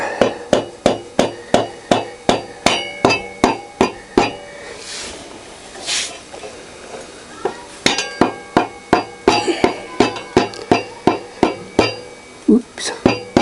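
Hammer blows drive a front wheel bearing through the hub of a Triumph Tiger 955i motorcycle: a long run of sharp metallic taps in steady rhythm, close and loud, with a brief pause midway before the tapping resumes.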